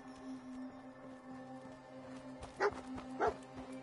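A dog in the Fallout video game gives two short, faint barks near the end over a steady low game drone.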